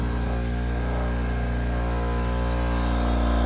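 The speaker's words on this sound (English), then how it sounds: "Sharpen the drill bit." Steady, continuous grinding with a motor's whine and a rough rasping edge as a drill bit is sharpened, close up, with no talking.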